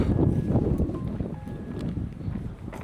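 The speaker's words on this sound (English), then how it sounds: "it's so windy here" Wind gusts at Canyon Lake, Texas rumble against the microphone throughout, moderately loud and steady, with faint distant tones in the background.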